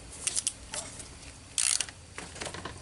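A ratchet tightening the water pump bolts on a 2008 Lexus ES350 clicks in quick, irregular bursts close by, with a sharper clatter midway and no talk.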